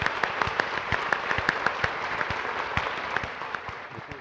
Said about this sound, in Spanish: quiero que por favor despidamos al doctor Uvide con un aplauso bien fuerte